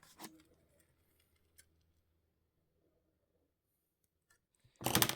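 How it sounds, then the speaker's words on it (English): Wire clipped off with cutters while making a beaded jewellery ring, a few small sharp snips and clicks close up amid near silence, followed by a louder burst of handling noise at the end. "Clip that wire off from the beginning."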